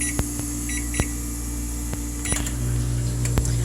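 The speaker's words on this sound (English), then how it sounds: "So put it in the microwave." A steady electric hum of a microwave oven running while heating milk, with a few sharp clicks and a brief beep-like tone near the end.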